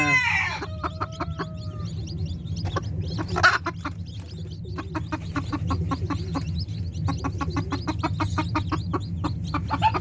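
Native chickens clucking close by, a busy run of repeated short clucks and calls over a low steady background hum, with one louder squawk partway through.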